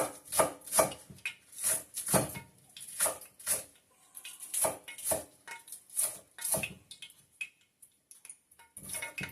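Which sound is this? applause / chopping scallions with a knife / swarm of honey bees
chopping scallions with a knife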